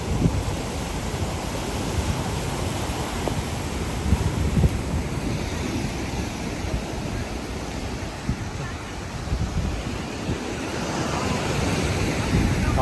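Sea waves at Fort Kochi beach in Kerala, a loud, continuous roar of surf mixed with heavy wind rumble on the microphone, steady throughout with no clear breaks between waves.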